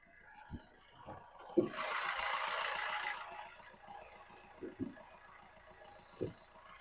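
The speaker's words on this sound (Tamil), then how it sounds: "நெக்ஸ்ட் இப்போ நம்ம வண்டியோட இன்ஜினை ஸ்டார்ட் பண்ணிட்டோம்." A 2014 Fiat Avventura Multijet diesel engine idles quietly just after starting, a faint, even clatter with a brief hiss partway through and a few soft knocks.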